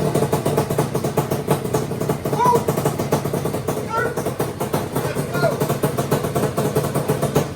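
A rebuilt 1992 Yamaha Banshee two-stroke engine runs at a steady, buzzy idle, close and loud, with people talking over it the whole time.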